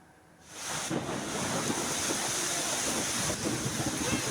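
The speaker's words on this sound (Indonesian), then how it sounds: "Hujan deras dan angin kencang menghantam wilayah Lembang, Buntu Lobo, Kecamatan Sesean, Toraja Utara." Strong wind and heavy rain lash a hillside village area in North Toraja, South Sulawesi, during a whirlwind storm: a dense, steady roar of gusting wind and rain that swells in after a quieter start and holds loud throughout.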